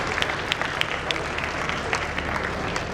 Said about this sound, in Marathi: या विजेत्यांसाठी आपण एकदा जोरदार टाळ्या वाजवूया